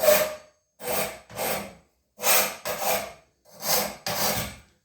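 A hand file rasps across the teeth of a sawmill band blade in close, steady strokes, mostly in pairs with short pauses between, and no voices.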